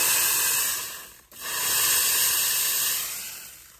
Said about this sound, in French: Il y a encore un peu d'air qui s'échappe.